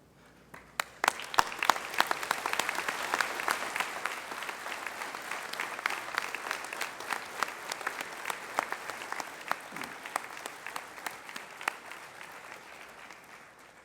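Graduates and audience at a college commencement ceremony break into sustained applause, starting abruptly, swelling to a full crowd ovation and tapering slightly over about fourteen seconds, heard at a distance in a large hall.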